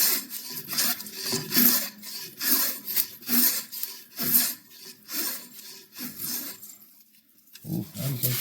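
A spokeshave shaves a tamarack wood splitting handle in repeated rasping strokes, close and fairly loud, with short pauses between passes.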